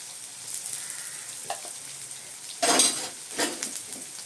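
Ginger garlic paste sizzles in a pan as the base for a prawn gravy: a steady bright hiss with soft stirring scrapes and a couple of louder spitting bursts near the end.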